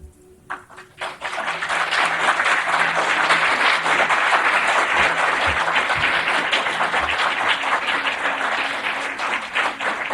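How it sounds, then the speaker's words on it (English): Sustained audience applause in a hall after a talk on Pope Saint Pius X, starting with a few scattered claps and swelling into dense, steady clapping that continues throughout. "Thank you for having applauded St. Pius X."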